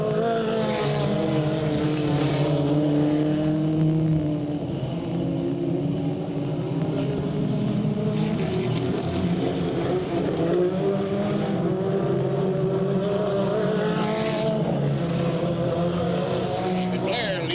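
Race cars roaring off the start of a 15-lap race at Delta Speedway, 1998, a dense sustained engine drone with rising and shifting pitches that surges again near the end, with an announcer talking over it.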